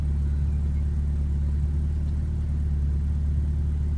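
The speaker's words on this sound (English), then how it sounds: "Just correcting the idle a bit after I've had the bigger 420cc injectors fitted." A Mazda MX-5 Eunos Roadster Japanese import idles steadily after bigger 420cc injectors were fitted, a constant low engine hum and throb with no revving, heard close.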